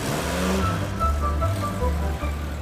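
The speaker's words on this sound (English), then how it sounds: "That drives all right, doesn't it? Off he goes, into the sunset." A remodelled Ford Transit Asquith van pulls away with a low engine rumble that shifts pitch as it drives off, fairly close and fading slightly.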